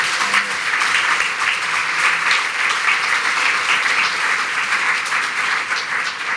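An audience at a women's network panel discussion at Litteraturhuset in Oslo gives a long, steady round of applause, dense and even throughout.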